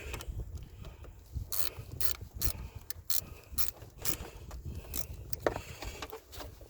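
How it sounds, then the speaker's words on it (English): Wrench ratcheting as a battery terminal is tightened on a 2017 Toyota Camry, a series of quiet, close clicking pawl strokes in irregular bursts, with no speech. "Then you tighten up your terminal, flip the wrench."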